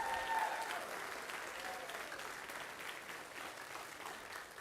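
Crowd applause for a school band at a spring concert, a sustained, fairly quiet roar of many hands clapping evenly, heard from within the audience.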